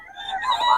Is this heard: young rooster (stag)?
yes